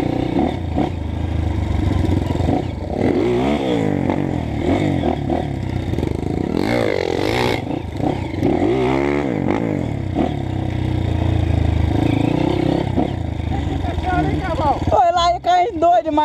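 Dirt motorcycle engine revving and rising in pitch while climbing a rough trail, close and loud throughout, with clattering and scraping, and voices over it.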